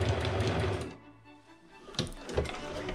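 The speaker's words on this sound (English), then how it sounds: "The backward sewing is to seal the thread a bit." Sewing machine backstitching a quilted Easter table cloth: a close, fast mechanical whir that stops abruptly about a second in, followed by a couple of soft clunks from the machine.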